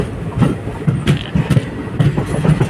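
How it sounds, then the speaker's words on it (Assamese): Passenger train travelling between Chapraghat and Bijni, a loud steady rumble with rhythmic clicking of wheels over rail joints, heard from inside the moving carriage. "তো ট্ৰেইনত মানে আমি যাই আছোঁ"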